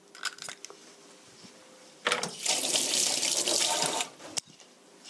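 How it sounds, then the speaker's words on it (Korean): Cold tap water pours into a bowl for pizza dough already holding a cracked egg, one cup for a camembert pizza: a steady, close, rushing stream of about two seconds that then stops, with small kitchen clinks around it. "시원한 물 1컵, 1컵 넣어주시고요."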